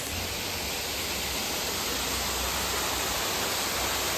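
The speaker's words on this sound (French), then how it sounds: "Une cascade." Waterfall at Cuenca in Indonesia, a steady, dense broadband roar of falling water that fills the whole clip without pause, close and loud with no voices over it.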